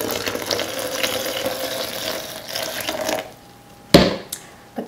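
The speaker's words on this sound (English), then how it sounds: "Now we'll add the water." Water poured into a pitcher for sweet tomato juice, a steady close splashing stream running for about three seconds, then fading out, followed by a couple of sharp clinks or knocks.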